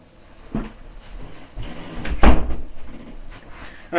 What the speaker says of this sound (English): Someone pushed my bedroom door open.